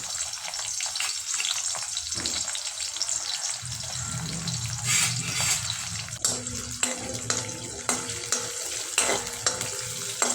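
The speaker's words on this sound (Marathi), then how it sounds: "इथं आपण सर्वप्रथम उभा चिरलेला कांदा टाकू" Vertically sliced onion frying in a pan, a steady sizzle with stirring scrapes and small clinks running continuously throughout.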